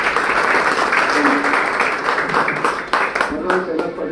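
An audience at a lecture event on a hot day applauds with a dense, steady wash of clapping that stays loud throughout, with voices mixed in.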